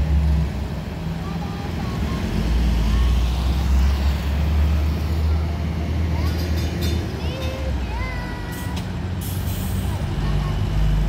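An intercity express bus (Putra Pelangi Patas) pulling away from a red light at night on the Aceh–Medan route, with heavy low engine rumble, air brake hiss and traffic around it, steady and close.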